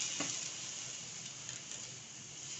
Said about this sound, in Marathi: अशा प्रकारे दूध ॲड करणार आहोत.